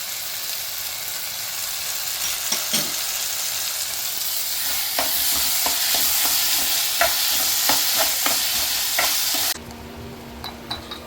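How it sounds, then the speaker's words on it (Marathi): Tomatoes and coriander stems fry in a pan, giving a steady close sizzle broken by repeated spatula scrapes and clicks as the mix is stirred, then a brief change in tone near the end. "टोमॅटो भाजताना त्याच्यातच आपण कोथिंबीरचे स्टेम्स ॲड करूया आणि ते पण छान फ्राय करून घेऊया."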